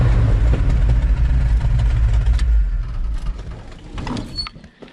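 A Ford F26 Highboy truck engine running rough and reluctant to idle, a close, heavy low rumble that holds strongly for a few seconds, then drops away and fades.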